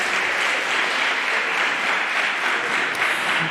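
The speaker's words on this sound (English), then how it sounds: "A round of applause for that." Sustained applause from an audience at an exhibition launch event, dense and steady throughout without pauses, fairly close and even in level.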